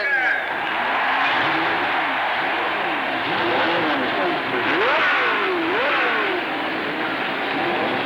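Race cars at Ontario Motor Speedway roar and rev continuously, engines rising and falling in pitch as they speed past, loud and sustained with a crowd-like wash beneath.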